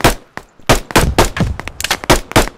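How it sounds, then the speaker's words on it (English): A rocket launcher fired in a video game, heard as a run of loud, close, sharp blasts and clanging impacts in quick, uneven succession with brief gaps between them. "You got a rocket launcher? Fire!"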